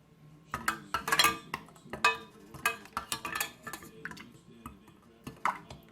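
Metal canning lids and screw bands clink and clatter against glass jars while being set in place for canning butternut squash, a run of close, sharp metallic ticks and taps with brief pauses.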